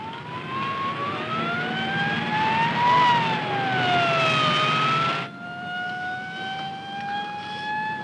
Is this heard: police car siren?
yes